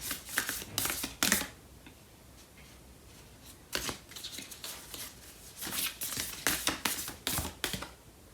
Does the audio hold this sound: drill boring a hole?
no